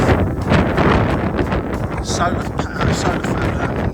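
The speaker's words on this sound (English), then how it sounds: "It's a hugely windy across here as well." Strong wind on the Kent coast buffets the microphone with loud rumbling gusts, and a voice can be heard talking through the noise.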